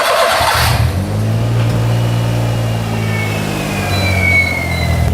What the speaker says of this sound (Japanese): さあ、そしたらエンジンをかけてみます。